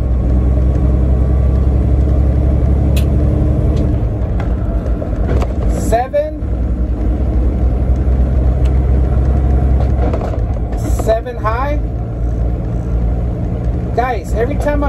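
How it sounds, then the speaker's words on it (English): Big rig truck with a 13-speed manual transmission, its engine rumbling loud and steady close by while the driver shifts gears, with brief dips and surges as the throttle is released and pressed again. "every time I'm changing gears, I'm also letting go of the gas, and then I press it back in so the gear can kick in"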